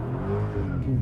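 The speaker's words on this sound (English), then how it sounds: "It's just doing a burnout." A 2023 Chrysler 300C SRT 6.4 Hemi V8 doing a burnout on wet pavement, a steady loud engine roar with rising pitch and tire squeal running throughout, close and continuous with no talk.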